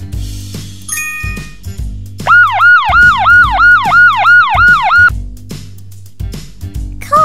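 A police car siren in a rapid wailing pattern, loud and close, repeating its rising-falling cycles for a few seconds amid other electronic toy-like sound effects.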